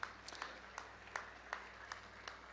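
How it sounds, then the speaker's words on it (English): Scattered, faint clapping from an audience at a farming production auction, a thin spread of individual claps with a few sharp peaks, sounding sparse and distant. "Let's give them a nice round of applause"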